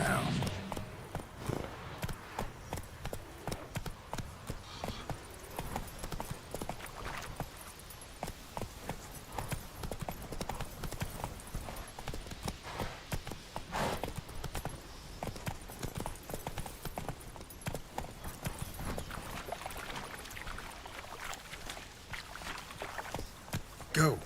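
Horse Roach's hooves clip-clop in a steady trotting rhythm through The Witcher 3 video game, close and continuous across the whole stretch, with a voice speaking intermittently over the hoofbeats and other game sounds.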